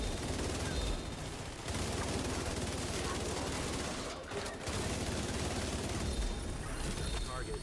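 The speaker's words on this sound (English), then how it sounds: "It's the sheer rate of fire on that thing." Rapid, sustained gunfire from The Division 2 rattles almost without pause, loud and dense, with a brief lull midway before the shooting resumes, and a voice talks over it.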